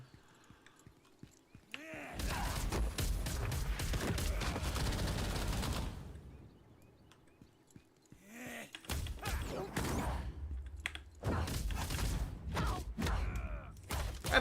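Rapid punching impacts from the Soulfist's bullet punch skill in Lost Ark rattle in dense bursts like machine-gun fire, a long loud flurry followed by further choppy barrages amid combat noise.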